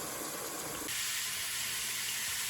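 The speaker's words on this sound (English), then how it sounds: "I'm going to drain the fat off of this as I put it into a bowl" Browned ground beef and its rendered fat are poured from a hot pan into a bowl, a rough sizzling rush that shifts into a brighter, steady hiss partway through.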